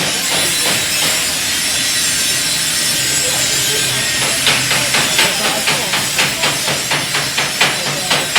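Busy metal and wood training workshop with a steady wash of machine noise, joined after a few seconds by a regular run of sharp, close tapping or sawing strokes repeating at a quick even pace.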